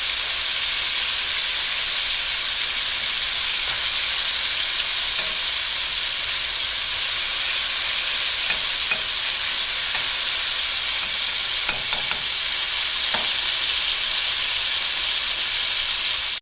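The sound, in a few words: steak browning and sizzling in a pan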